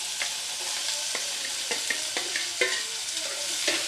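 Bitter gourd and potato pieces sizzle steadily in a hot pan, with several sharp scrapes and clacks of a spatula stirring them through the frying.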